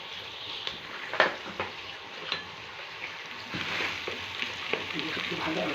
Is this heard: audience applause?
no